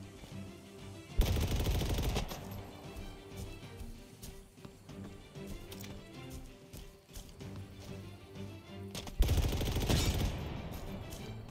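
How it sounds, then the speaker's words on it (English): Gunfire in the Halo Infinite video game, with two loud dense bursts near the start and near the end, separated by a stretch of quieter rattling combat noise and a low hum. "I hear gunshots."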